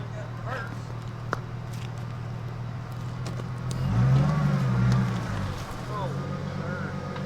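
A 1994 Ford Mustang that has sat unused for a long time rolls slowly, a low engine rumble swelling midway then settling, with people talking nearby throughout.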